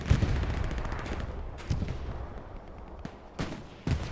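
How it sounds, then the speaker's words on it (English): Artillery shells pound a compound in a competitive wartime strategy match: several loud, deep booming impacts spaced irregularly, with crackling gunfire rattling between them and no voices. "Artillery hitting hard into the compound there"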